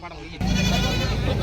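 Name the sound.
goat bleating at a goat market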